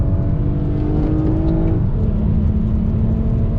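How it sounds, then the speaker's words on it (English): A 2020 Toyota Camry TRD accelerating from a dead stop with paddle shifts, a loud, close engine drone holding steady before a gear change drops the pitch midway. "another acceleration, dead stop, all the way up, using the paddles to shift"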